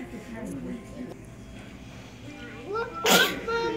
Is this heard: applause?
no